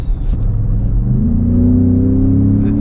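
A 2017 Ford Raptor truck engine revs and accelerates steadily, a loud low rumble rising in pitch and holding close throughout, with no voices.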